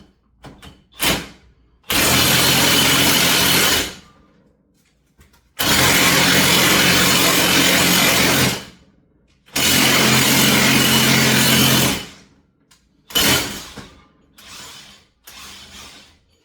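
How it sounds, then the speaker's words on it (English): Impact wrench hammering a lug nut socket onto a hot wheel nut, three long loud sustained rattling bursts of several seconds each, with short blips between them, close by and with no talk. "And my trusty old impact. And we're just going to ugga-dugga it until it presses it back into spot."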